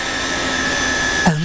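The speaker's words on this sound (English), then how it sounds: "3 vacuum cleaners." A cordless vacuum cleaner runs with a steady, loud whining drone and high tonal hum that holds throughout, ending with a brief rising sweep.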